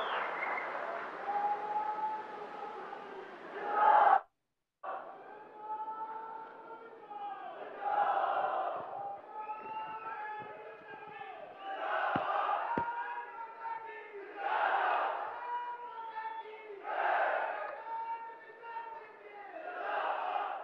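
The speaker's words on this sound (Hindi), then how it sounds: "जोरदार तालियों के साथ डॉक्टर जतिंदर सर का" A crowd at a political gathering welcomes Dr Jitendra with applause and chanting, loud surges of cheering and clapping rising and falling in repeated waves, with a brief cut partway through.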